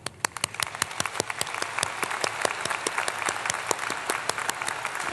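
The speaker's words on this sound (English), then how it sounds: "So my special applause for our faculty and staff" Audience applause at a university commencement ceremony, with loud, distinct close claps pounding out in a quick irregular rhythm over a broader wash of clapping from a large crowd.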